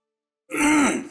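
A man clears his throat once in a short, rasping burst during a scene from the CID television drama, heard close and alone with no talk around it.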